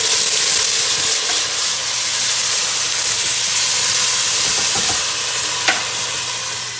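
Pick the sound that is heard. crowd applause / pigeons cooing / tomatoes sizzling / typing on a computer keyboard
tomatoes sizzling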